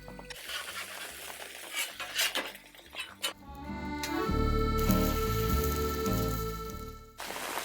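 An egg sizzling in a frying pan for a breakfast sandwich, with clinks and scrapes of utensils against the pan and a steady crackling fry building up, close and with no speech.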